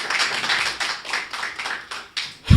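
An audience at a Hindi poetry gathering breaks into a short burst of dense, lively clapping, steady for a couple of seconds before tapering, with a low thump at the very end.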